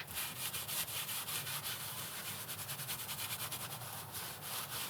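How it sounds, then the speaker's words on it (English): Old wooden boards being rubbed down with feed and wax by hand inside a 1974 school bus conversion, making a steady, close run of rhythmic rubbing strokes with no talking. "I'm going to try to use some of my favorite little feed and wax here."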